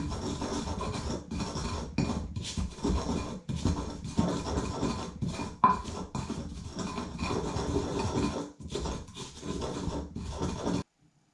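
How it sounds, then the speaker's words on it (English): A replica pestle grinding in a Roman mortarium with stone grits, giving a continuous close rasping scrape that rises and falls in steady strokes for several seconds before stopping. "The little stone grits in the mortarium, which are a standard feature in Roman Britain, help to make the grinding very much more easy"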